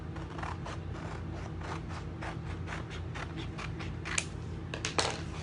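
Scissors snip through a chalk transfer stencil in a quick run of crisp, close cuts, with a few sharper clips near the end and no talking.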